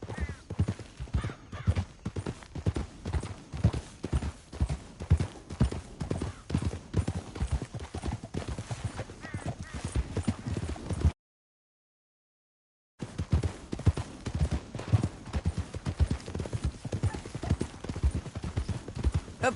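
Horse hooves clip-clop in a steady rhythmic gait in the Red Dead Redemption 2 video game, continuous and fairly close, broken by a brief silent gap before the hoofbeats resume.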